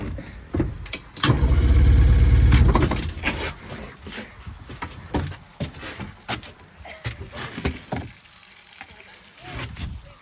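An outboard boat engine with a manual choke cranks and catches, a loud sustained roar building in the first seconds then settling into uneven, sputtering running with irregular pops and bursts.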